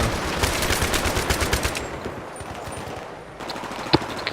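Rapid automatic gunfire in the video game Battlefield 3 rattles loudly in a fast rhythmic burst, then fades into quieter distant battle noise with a single sharp shot near the end.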